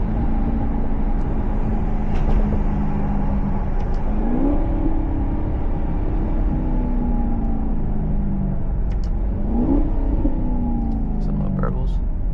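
Maserati GranTurismo engine heard from inside, a steady loud rumble with two clear downshifts around mid-clip and a few small exhaust burbles, someone talking over it.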